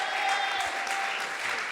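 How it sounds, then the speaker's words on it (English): An audience claps steadily for a young man after the pilot taping of a talk show at the YouTube Space in New York, a dense, continuous patter of applause with a faint voice underneath. "Y'all better clap for this boy."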